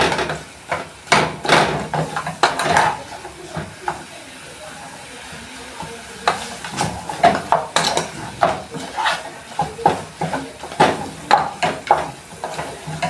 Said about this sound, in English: Mix the tomato together.